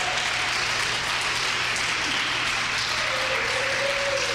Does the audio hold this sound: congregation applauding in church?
yes